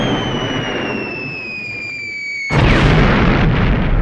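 A whistling descending tone gives way to a sudden loud explosion, followed by a sustained rumbling roar and crackle.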